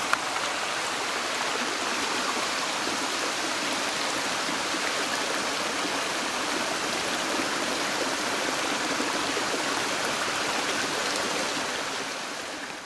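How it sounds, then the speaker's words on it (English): Waterfall near Lake Margaret in the Alpine Lakes Wilderness, a steady broadband rush of falling water, loud and unbroken throughout. "This waterfall is just beautiful."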